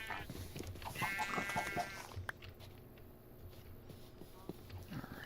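Sheep bleating in Minecraft, a few wavering bleats in the first two seconds, then a quieter stretch with farm-animal sounds and faint clip-clop steps.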